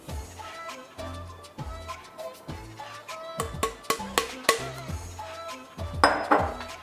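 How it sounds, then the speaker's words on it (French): A utensil clinks and taps repeatedly against a mixing bowl while flour, sugar, salt and leavening are stirred together for pancakes, in an irregular series of close, sharp knocks. "on va commencer par mélanger dans un saladier"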